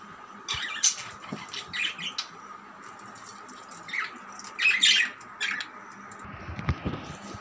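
Pet lovebirds perch on a hand-made ring while eating, giving out scattered sharp squawks and chirps in short bursts, some close and loud, over faint scratching and rustling with quiet gaps between calls.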